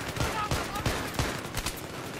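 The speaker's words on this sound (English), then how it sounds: "Keep shooting." Rapid bursts of gunfire from a shooting video game, dense and continuous with repeated sharp cracks at an even loud level, in a gaming session.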